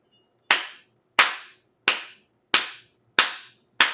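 Six sharp hand claps, evenly spaced and loud against a quiet background, each ringing out briefly before the next.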